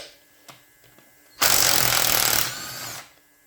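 A power socket driver with a tamper-proof T40 bit whirs loudly for about a second and a half while loosening case bolts on a Yamaha Vmax 1200 engine, preceded by a few faint clicks and followed by a quiet tail.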